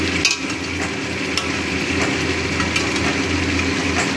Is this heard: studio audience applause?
no